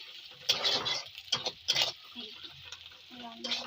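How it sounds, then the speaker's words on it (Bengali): Bele fish (goby) frying in a pan gives a soft sizzle with bursts of utensil stirring and scraping, heard close by alongside a speaking voice. "আর এখানে আছে বেলে মাছ রান্না করছি"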